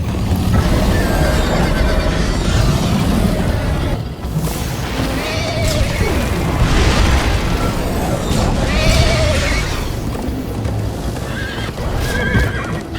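A horse in the video game Minecraft: Story Mode neighs and whinnies loudly several times over clip-clopping hooves and a dense, busy game soundtrack.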